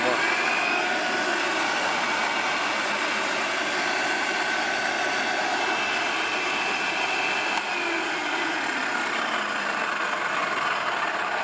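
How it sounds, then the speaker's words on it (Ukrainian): A Moulinex ME 20 electric meat grinder, just repaired after failing to switch on, runs steadily with a continuous motor whine and hum at close range, holding an even level throughout. "м'ясорубка, як ви бачите, зібрана. Вмикаємо."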